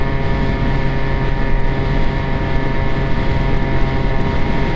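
An Aprilia SR50 scooter engine held at high revs around 8,100 RPM, near its low-power limit: a loud, constant buzzing drone with no pauses or talk.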